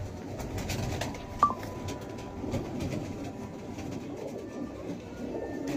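Pedigree pigeons at a fancier's loft coo in a low, continuous murmur, with one brief sharp click standing out near the middle.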